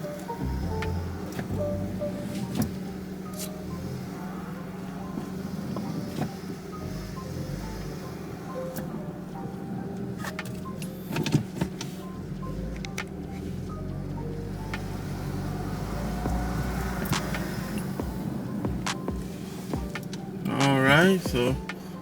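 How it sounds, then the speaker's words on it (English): An older Honda with 190,000 miles idles steadily with a low, continuous engine hum, close by, alongside wind noise and some handling sounds, with a brief whining rise near the end. "the car is running"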